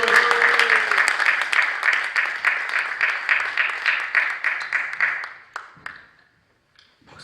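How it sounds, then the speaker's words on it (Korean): A church seminar audience applauds to welcome a pastor as speaker, with dense, close clapping that holds steady for about five seconds and then tapers off to silence. "그럼 저희가 최기석 목사님을 박수로 모시겠습니다"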